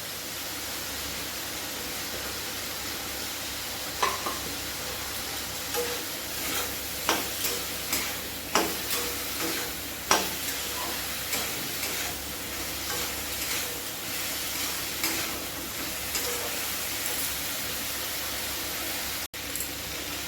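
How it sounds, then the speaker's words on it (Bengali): Chicken pieces and spices, including turmeric, frying in a pot for chicken soup produce a continuous hissing sizzle, with regular knocks of a spoon stirring against the pot. "ভালো ভাজা করে নেব, যাতে কাঁচা গন্ধ না থাকে"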